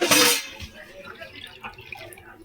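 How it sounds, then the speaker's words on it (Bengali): Water splashes into a pan for sugar syrup in one brief, bright pour at the start, then settles into quiet drips and light clinks under a speaking voice. "আমি 2 ঘটি জল দেবো চিনির শিরাটা বানানোর জন্যে।"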